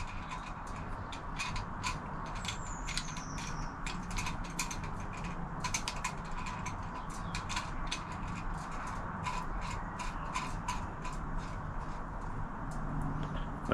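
A threaded brake line fitting is screwed in and tightened by hand, giving a steady run of close, small metallic clicks and ticks, like a ratchet, over a constant low background hum.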